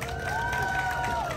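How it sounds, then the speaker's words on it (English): An audience at a Hawaiian luau in Kapolei applauds and cheers for performers, a brief burst of clapping mixed with a rising whoop from the crowd. "how about a round of applause for our torchbearer, Cousin Cotton"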